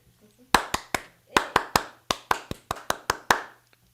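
Two people clap in a quick, uneven run of about a dozen sharp, close claps with a short pause after the first few, heard on their own without talk.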